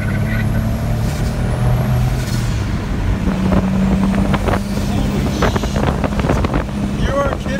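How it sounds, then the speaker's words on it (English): A turbocharged Legend race car accelerates hard and spins its tires, its engine roaring under heavy wind buffeting on the microphone while people talk over it. "It'll spin the tires in four."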